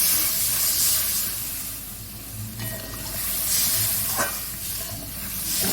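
Water poured into a hot pan of fish curry with small chanda fish, eggplant and green chili paste sets off a loud, close hiss and bubbling sizzle that dips briefly midway, then swells again.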